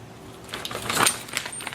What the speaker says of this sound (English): And then you've got 2 keys.